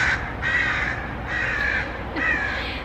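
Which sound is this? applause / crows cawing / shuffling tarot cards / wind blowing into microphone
crows cawing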